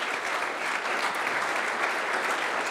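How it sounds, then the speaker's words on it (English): Applause from a conference audience for a sponsor during the closing thanks, a short, steady burst of many hands clapping at once, even and unbroken. "So big round of applause for Net Balance."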